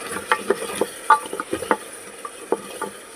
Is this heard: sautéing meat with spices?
yes